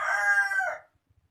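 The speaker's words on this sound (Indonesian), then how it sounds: "ada backsoundnya yang berkokok." A rooster crows once, a clear, near call that rises and sustains for most of a second before cutting off into quiet farmyard background.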